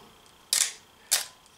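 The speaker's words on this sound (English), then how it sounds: "when you let the shutter up, it closes the shutter again" A Minolta XD-11 35mm SLR with a mechanical shutter fires twice, each release a sharp, close mechanical clack about half a second apart, with nothing else around it.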